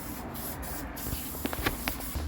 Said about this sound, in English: The spray contact adhesive spray glue stuff for the foam